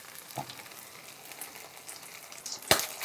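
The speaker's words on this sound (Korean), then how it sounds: "이게 해물이라 오징어 같은 건데 탁탁탁 튀어요" Seafood pancake with squid frying in hot oil in a home kitchen, a steady close sizzle with occasional crackles and one sharp loud pop near the end, no talking.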